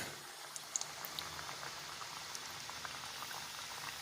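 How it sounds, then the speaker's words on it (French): Dough for Spanish roscos fries in a hot pan, a faint steady bubbling hiss with scattered small pops and crackles, heard alone without voices. "on attend que ça frie, que ça chauffe"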